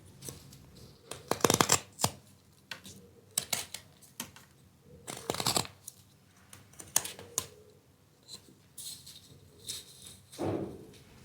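A knife carves stop cuts into wood during whittling, giving irregular clusters of close, crisp scraping and cutting strokes with quiet pauses between them and no talk.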